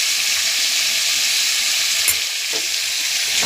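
Cut potatoes go into hot oil in a spice-coated pan and send up a loud, dense, continuous sizzle up close, with a faint clink or two and no talking.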